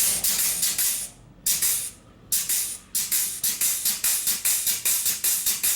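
A hand grease gun pumps grease into the U-joints of a truck, heard as a loud, close series of short hissing, squirting strokes in a steady rhythm, with a few brief pauses near the start.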